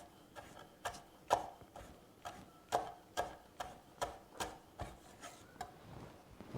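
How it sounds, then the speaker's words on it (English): A knife slices finely through kaffir lime leaves on a board, about a dozen crisp, evenly spaced taps in a steady rhythm, close and fairly quiet, with no talk. "some more of this beautiful Kaffir lime. And we just julienne it."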